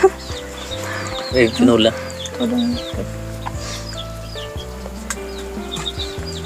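Chickens cluck and call around a mountain home, with several short bursts of clucking mixed with sustained tonal sounds and people talking over them.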